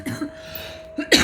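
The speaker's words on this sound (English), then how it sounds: "So sorry about my cough." A couple of short cough bursts close to the microphone, ending in a louder harsh cough.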